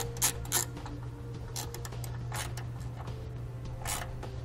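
A ratchet fitted with a 3/8 socket tightens nuts on circuit breaker terminals during a trailer brake controller install on a 2018 Honda Odyssey, giving several short, close clicking bursts over a steady low hum.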